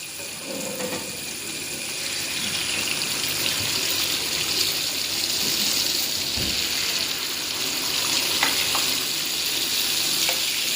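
Oil sizzles and crackles steadily as small unniyappam balls of raw-rice batter fry in a pan, with occasional light scraping, no talking.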